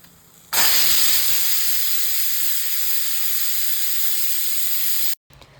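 A pressure cooker whistle lets out one loud, continuous hiss of escaping steam that starts abruptly, holds steady for about four and a half seconds, then cuts off sharply.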